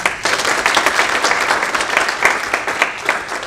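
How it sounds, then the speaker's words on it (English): An audience at a government guardianship meeting breaks into sustained applause, a dense, steady wash of many hands clapping close by for the full stretch with no talk over it. "I think we should give each other a round of applause."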